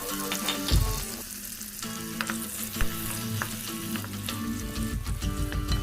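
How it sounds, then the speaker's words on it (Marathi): Red pumpkin pieces sautéing in ghee in a kadai (wok) for pumpkin kheer, a close, steady frying sizzle with frequent spatula scrapes and clinks throughout. "भोपळा तुपासोबत छान परतून घ्यायचा"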